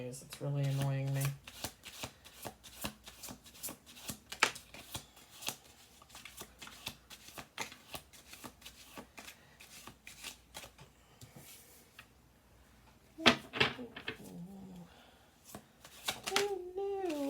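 Tarot cards being riffled and shuffled by hand, giving dense bursts of crisp flicking and snapping close up, with short pauses between rounds and a few brief spoken bits and other noises in between.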